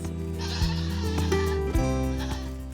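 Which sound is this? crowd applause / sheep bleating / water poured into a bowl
sheep bleating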